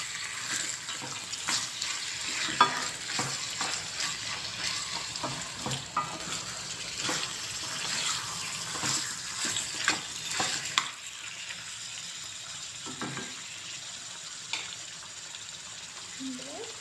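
Half a kilo of chicken pieces fries in a pan for a spinach chicken curry, a soft steady sizzle broken by scraping stirs, quieter after the first two-thirds.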